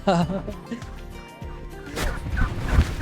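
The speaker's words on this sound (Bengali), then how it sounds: "মানে টার্কি মুরগি দেখতেছি" Turkeys gobbling at a desert camp in Saudi Arabia, loud rattling gobbles mixed with people talking nearby and some background clatter.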